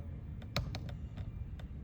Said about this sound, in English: And over here I can just now start typing